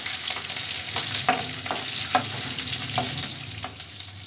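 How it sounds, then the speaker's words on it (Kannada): Ginger, garlic and asafoetida frying in a pan give a steady, dense sizzle with recurring scraping strokes as the mixture is stirred, close and fairly loud with no talking. "ಶುಂಠಿ ಬೆಳ್ಳುಳ್ಳಿ ಸ್ವಲ್ಪ, ಇಂಗು ಚೆನ್ನಾಗಿ ಫ್ರೈ ಮಾಡ್ತೇವೆ."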